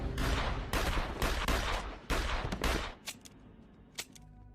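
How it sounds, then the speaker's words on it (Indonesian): Rapid bursts of gunfire in a tense film scene as one character shoots another with a pistol, loud, dense overlapping shots for about three seconds, then a few scattered sharp cracks fading into quieter background. "Akan tetapi Vlad kalah cepat dengan Tanya yang lebih dulu menembak Vlad."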